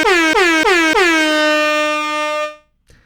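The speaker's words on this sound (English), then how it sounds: "That's right, 5 air horns" An air horn sound effect blasts in several quick stuttering honks and then holds one long loud tone before cutting off abruptly, close and alone.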